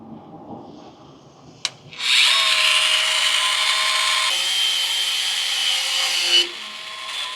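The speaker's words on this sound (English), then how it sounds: "I've got my Dremel here" A Dremel rotary tool cuts out a bolt on a fire truck. After a sharp click it starts with a loud, steady, high-pitched whine and grind that holds for several seconds, then cuts off abruptly.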